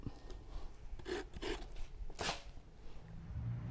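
Scraping while Thai rice desserts are prepared for a merit-making offering, heard as several short rough rasping strokes close by, with faint background noise in between.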